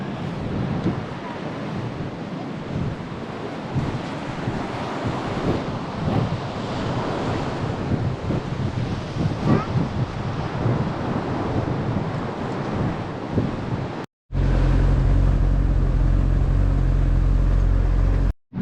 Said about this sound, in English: here we are in the beautiful, fancy, expensive and very cute beach of São Pedro do Moel.